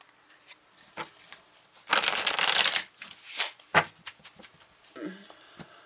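Tarot cards shuffled by hand, with soft flicks and riffles building to a dense burst of rapid card flutter, then scattered quieter taps and slides, close up and without talking.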